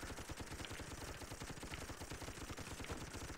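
Rapid, sustained gunfire from toy guns in the video game Toy Soldiers, a dense stream of shots firing continuously and loudly throughout with no talking.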